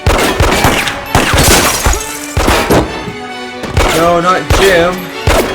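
Gunfire and crashes from the film American Psycho, a burst of sharp loud impacts mixed with dramatic music, with a brief line of dialogue.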